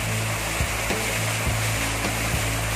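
A strong river flows at the water source of a farm property with waterfalls, giving a loud, continuous rushing wash with occasional low thumps.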